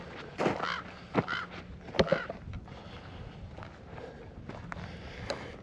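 A few crows caw in short, scattered bursts, fairly close but not loud, in quiet open hills in California, with faint footsteps crunching on the ground between the calls.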